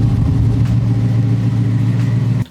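A 1967 Camaro on skinny tires hums steadily with a low engine drone, nearby and fairly loud, as it pulls away.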